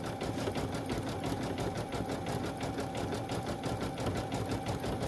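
A single-needle embroidery machine sews a satin stitch through heat-transfer vinyl appliqué on a sweatshirt, its rapid, even needle pulses tapping out a fast, regular rhythm, steady and moderately quiet throughout.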